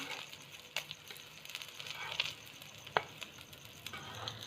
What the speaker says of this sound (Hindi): ये शामी फ्राई हो गई हैं, इनको मैं उतार लूँगी।